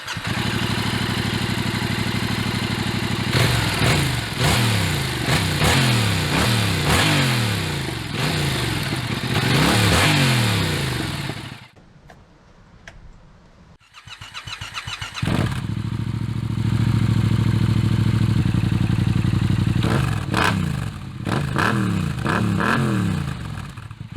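A 2021 Yamaha MT07 fitted with an Akrapovic full carbon exhaust revs loudly and repeatedly, with rising and falling engine sweeps, a short quiet gap, then further idling and revving bursts, no talk.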